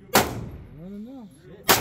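Handgun firing ammunition: two sharp, loud gunshots close by, separated by about a second and a half, with a brief voice between them.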